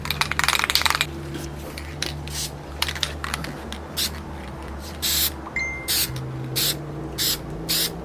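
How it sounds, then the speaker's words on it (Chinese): A can of spray paint is shaken before painting parts during a car rebuild, its rattle coming in regular short bursts after a rougher, noisier opening. "我们先把这个同样的颜色摇个2分钟"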